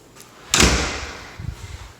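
A big front door of a new house swings open with a sharp latch clack, a brief whoosh, then a softer thud as it settles.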